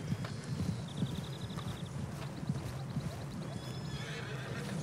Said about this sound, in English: Oh, I got a horse now, actually.